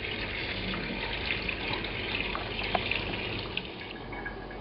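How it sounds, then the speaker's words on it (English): Cold tap water runs steadily over dried split peas in a kitchen sieve, a continuous hiss and patter of water with small droplet splashes, moderately close and alone. "I'm going to run some cold water over these."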